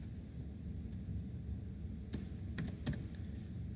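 A formula is typed on a computer keyboard: a handful of crisp, close key clicks in a quick irregular cluster in the second half, over faint room hiss.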